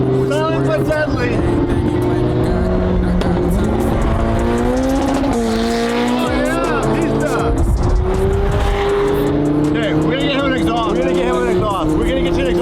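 A McLaren sports car engine revs and drones nearby, its pitch rising and falling as it accelerates, with tire squeals and people talking over it.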